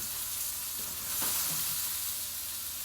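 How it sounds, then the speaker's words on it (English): Steady sizzling of eggplant frying in a hot pan, a constant crackling hiss with a brief louder stir in the middle. "You can see, starts to sizzle."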